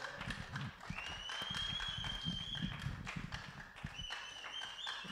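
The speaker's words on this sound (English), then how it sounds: "All right, a round of applause, gentlemen." An audience at a public forum on women in politics claps at a moderate level, steady broadband patter with whoops and whistles rising over it throughout, and some voices mixed in.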